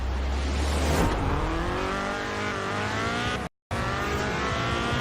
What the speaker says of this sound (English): Once again, our terribly tuned Ford Escort is quick off the line.